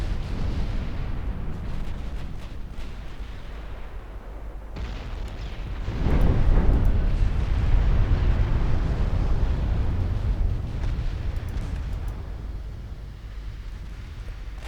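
A warship blowing up and sinking as the battleship Richelieu goes down in the naval game Ultimate Admiral: Dreadnoughts: a dense, booming rumble that surges louder midway and rolls on steadily, heavy and continuous with no voices.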